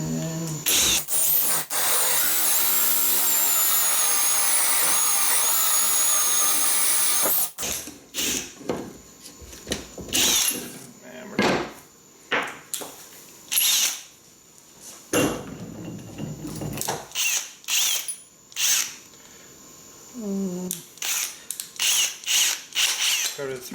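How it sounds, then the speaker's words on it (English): A hole saw bores through a wooden board for a one-board birdhouse, a loud continuous grinding whir for several seconds, then stops and is followed by scattered clicks, knocks and handling noises. "Bring over your hole saw, hang it over the edge,"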